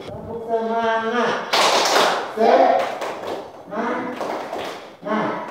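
A teacher and young pupils in a classroom clap together in short rhythmic bursts, mixed with chanted voices between the claps.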